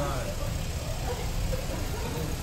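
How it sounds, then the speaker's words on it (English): Car engine running steadily during a baby's first car ride with Grandpa driving, a constant low hum inside the cabin under quiet talk. "Hello world again, our first car ride."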